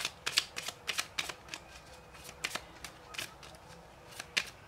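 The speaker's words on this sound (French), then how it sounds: "Alors on va tirer deux cartes pour" Tarot cards being shuffled by hand, a series of quick crisp riffling bursts in an uneven rhythm, close and clear.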